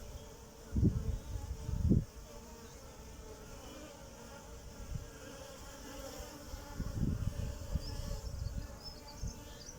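Honeybees buzzing at a hive entrance as they bring in pollen in a late-February garden, a steady soft drone of many insects with a few louder close passes as bees fly past.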